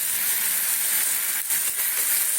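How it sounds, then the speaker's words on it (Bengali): Spice paste fries in a pan for a rohu fish dish, giving a close, steady and loud sizzle that runs unbroken for the whole clip. "মশলাটাকে একটু ভাজা ভাজা করে নিতে হবে সুন্দর করে"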